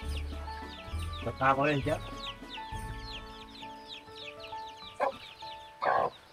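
Chickens cluck and squawk nearby in short bursts, with a few louder calls, while people talk over them.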